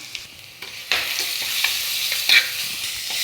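Crushed onion, garlic and ginger hitting hot oil with mustard seeds: sharp sizzling bursts and spatula scrapes in quick succession over a short stretch, close and fairly loud, with no speech.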